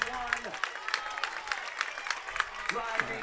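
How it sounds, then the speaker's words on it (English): Spectators at a high school track and field invitational stand and cheer as a runner nears a record in the home stretch: a dense, steady roar of crowd noise with scattered clapping, while an announcer talks over it. "Fans are standing up cheering."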